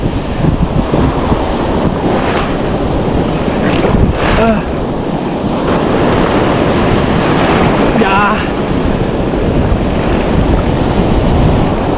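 Big ocean waves crash and roar loudly and continuously around a small boat on a wrasse fishing trip, with heavy wind buffeting the microphone and brief shouts from a man.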